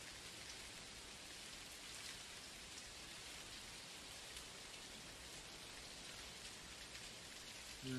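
Steady rain falls outside in an Unreal Engine game scene, a constant even hiss with no breaks or voices.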